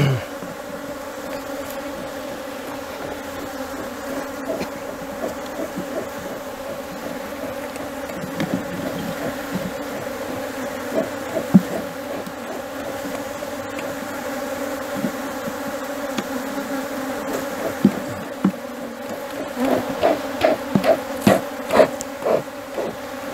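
Honey bees buzz steadily around an open beehive during honey season work, a dense close hum that swells and thickens toward the end.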